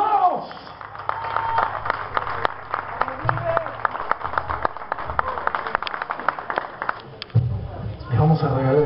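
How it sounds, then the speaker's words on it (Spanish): Audience applause for the bass player Rubén Trombini at a live hard rock concert at The Roxy, steady clapping and crowd noise with a band and voices mixed in, fairly loud throughout. "El aplauso con fuerza para el genio Rubén Trombini en el bajo."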